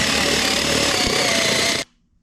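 A step drill bit bores a wide hole through the ceiling of a Ford Transit van conversion, giving a loud, close, steady grinding whine for almost two seconds that stops abruptly.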